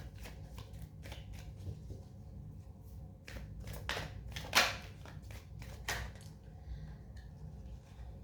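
Tarot cards are shuffled and drawn close up in quiet, irregular bursts of flicking and riffling, with a sharper snap of a card near the middle over a low background hum.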